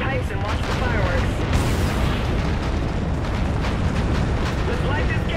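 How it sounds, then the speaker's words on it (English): A tower detonation in the video game Call of Duty: Infinite Warfare, a loud, sustained roaring blast with crackling debris and rumble lasting several seconds, with voices speaking over it. "Tower detonation."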